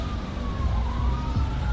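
An ambulance siren approaching in the video game GTA, a steady wailing tone sliding gently in pitch over a low rumbling background, moderately loud, heard alone without talk.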